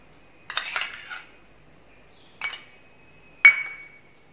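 Three separate clinks of a spoon against a bowl while mutton is mixed with green chili and coriander paste and thick fresh yogurt, each sharp and bright with a brief ring, the first one longer and scraping.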